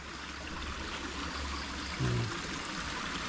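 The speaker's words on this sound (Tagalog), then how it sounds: "Yung baha galing doon sa bundok papunta dito sa baba." A small stream carries water down from the mountain to lower ground, flowing in a steady, continuous rush heard up close with no talking, broken only by a short low thump partway through.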